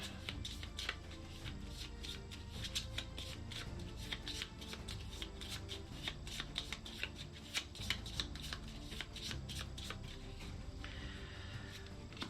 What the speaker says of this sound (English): I have to shuffle real quick.